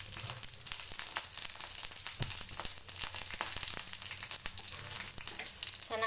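Garlic frying in oil in a pan, a steady bright sizzle with occasional small pops and stirring clicks, continuous and close, with no talking.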